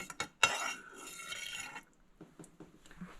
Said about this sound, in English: I'm just going to grab my spoon here